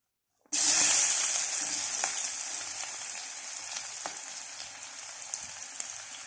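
Onions dropped into hot oil for a fish egg curry burst into a loud, dense sizzle that stays close and steady, easing slightly as the frying settles.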